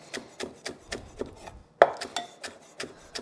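A knife slices scallions into thin rounds on a cutting board, giving a steady run of about a dozen close, crisp chops, with one sharper knock midway. No one speaks.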